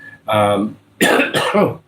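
Two or three harsh, close coughing bursts after a short stretch of voiced sound, with a brief pause between them.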